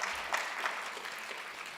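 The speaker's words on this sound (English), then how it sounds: "give yourselves a round of applause" An audience at the inaugural meeting of the Asian American and Pacific Islander Commission applauds, a steady wash of many hands clapping at moderate, even loudness throughout.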